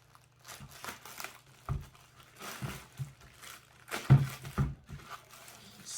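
Packaging crinkles and rustles as an RC plane kit box, a BlitzRCWorks Mini F-22 Raptor, is opened, with soft scattered crackles and a few louder crunches close by, no talk.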